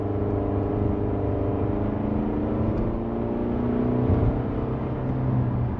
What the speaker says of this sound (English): like most 4-cylinder engines tend to be a little buzzy, and this one's no different